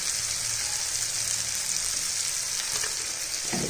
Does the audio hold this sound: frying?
yes